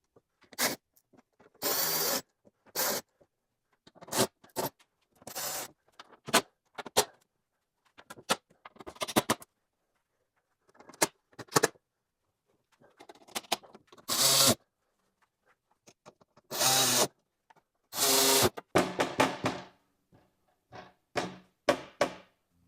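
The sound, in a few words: tightening coarse threaded screws on aluminum skid plate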